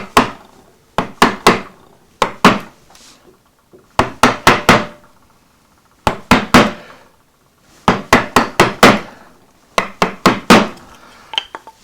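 A wood gouge being struck with a mallet to chop waste from large carved wooden letters, heard as sharp, close knocks in quick bursts of three to five separated by short pauses.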